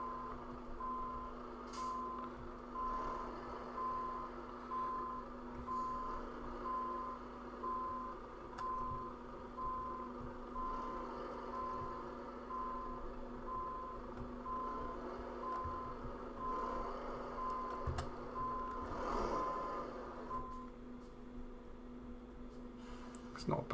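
Reversing alarm of a heavy truck with a long trailer in Euro Truck Simulator 2 beeps in a steady repeating pattern for about twenty seconds over a low engine drone.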